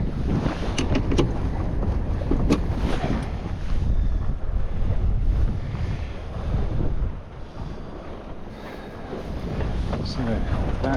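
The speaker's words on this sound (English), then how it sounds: "At least we've got some decent wind." Steady wind roaring across the microphone on a sailboat under sail on a sunny November day, with water rushing against the hull, continuous and loud for the whole stretch.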